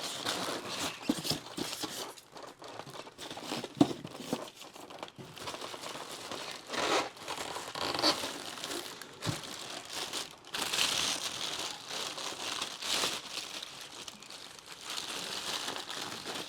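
Plastic packaging crinkles and rustles in irregular bursts as a Hasbro HasLab Galactus figure is unpacked, close and fairly quiet, with scattered crackles and no talk.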